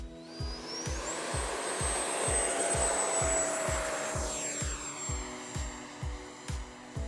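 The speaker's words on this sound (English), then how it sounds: "It was time to try and warm up my rusty thumbs with the FMS Rafale 80mm EDF." An FMS Rafale 80mm EDF radio-controlled jet flies past, its ducted fan whining and rising in pitch as it approaches, then fading with a falling tone over a rhythmic thumping background beat.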